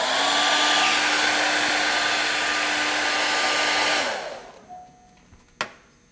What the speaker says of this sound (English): We're going to take our hair dryer and dry this.